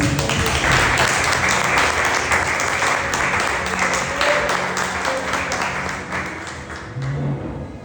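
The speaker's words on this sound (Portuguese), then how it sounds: "Você pode aplaudir o Senhor Jesus?" Church congregation applauding during a service, a full sustained round of clapping from many hands, loud at first and gradually tapering off toward the end, with no talk over it.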